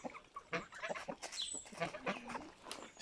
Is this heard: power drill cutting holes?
no